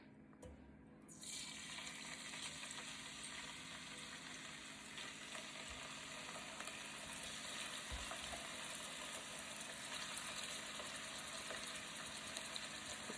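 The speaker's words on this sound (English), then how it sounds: "So we'll go ahead and put our beef in there." Beef for fajitas searing in a hot skillet, a steady loud sizzle that bursts in after a brief quieter start and holds evenly throughout, with no talking.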